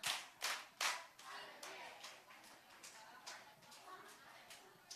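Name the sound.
children clapping three times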